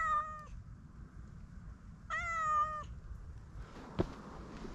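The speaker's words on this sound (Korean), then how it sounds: "걷다 보니 길 가장자리 숲에 산고양이 한 마리가 있습니다." A wild cat at the forest edge beside a mountain trail meows twice, close and clear, with a quiet outdoor hush between the calls and a sharp click near the end.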